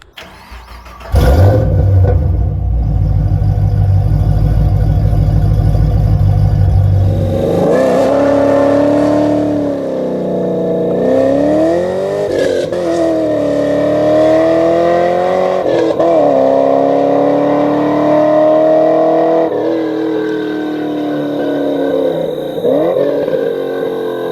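A Gen 5 Camaro SS with an LS3 V8 and an essentially straight-piped exhaust cranks and fires up with a loud bark. It then settles into a deep, rumbling idle with a few throttle blips, close and alone.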